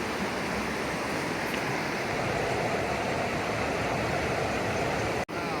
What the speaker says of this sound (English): there's a gigantic boil of water coming out